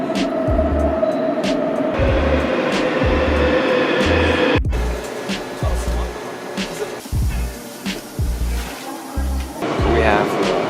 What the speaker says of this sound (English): We have hopped on the metro line 9, and this train is an express train